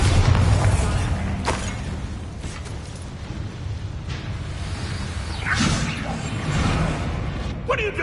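The Bombarda blasting spell in Hogwarts Legacy, whooshing casts followed by booming explosive bursts in a spell-filled fight, loud and repeated, with a voice talking over the action.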